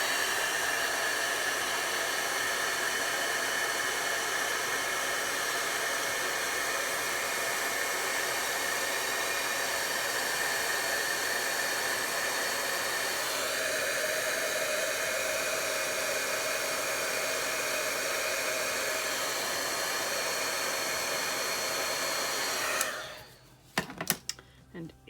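A heat embossing tool blows a loud, steady, close whoosh for more than twenty seconds over a stained glass style tree card, then cuts off, leaving a few soft handling sounds.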